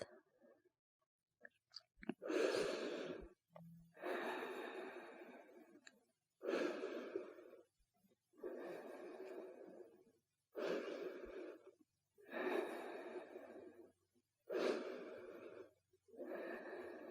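Slow, deep breathing during a resting yoga pose after a handstand drills class, each long inhale or exhale lasting about two seconds with silent gaps between, seven breaths in an even rhythm, close and soft.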